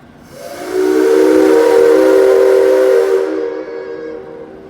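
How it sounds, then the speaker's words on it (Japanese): A steam locomotive whistle blows once at a railway museum, loud and near, a sustained tonal blast of about three seconds with hissing steam that fades out at the end. "ただいま大きな音で鳴り響いた汽笛は、機関車からさまざまな合図を出したり、注意を呼びかける目的で使われています。"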